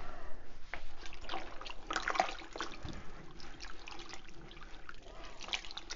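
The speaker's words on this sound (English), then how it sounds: "And I'm going to start to stir." Wet raw glaze materials stirred by a gloved hand in a full-size batch, with sloshing, trickling liquid and irregular thick swirls and splashes, close and fairly loud, no speech.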